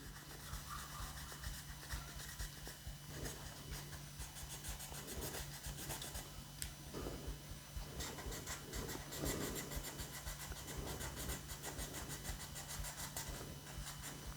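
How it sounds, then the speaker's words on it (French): Cotton soaked in lacquer thinner is rubbed over dry Tamiya putty during repair of a cracked model aircraft, giving a steady scratchy scrubbing texture close up, continuous for the whole stretch with no talking. "je vais frotter pour enlever le putty Tamiya sec"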